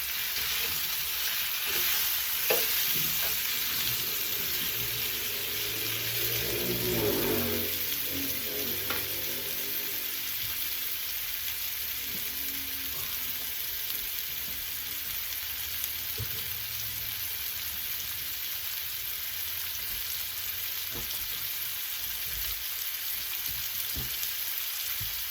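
Potatoes frying in a pot for smothered potatoes give a continuous close hiss and crackle, with occasional spatula scrapes and clicks as they are turned over.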